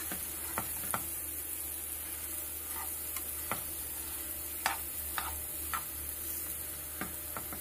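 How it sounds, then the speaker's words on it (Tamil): Sweet potato pieces fry in ghee in a pan, giving a steady soft sizzle with scattered clicks and scrapes of stirring throughout, close and fairly quiet with no talk. "இப்போ அந்த நெய்லேயே இந்த ஸ்வீட் பொட்டேட்டோ இதில் போட்டுட்டங்க. இது நல்லா ஃப்ரை பண்ணணும்."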